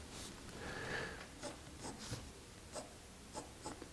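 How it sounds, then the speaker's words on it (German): A pencil draws a cube on paper, making faint, close scratchy strokes in short bursts with brief pauses between lines. "zeichnen die Unterseite des Würfels ein und zeichnen die Oberseite des Würfels ein"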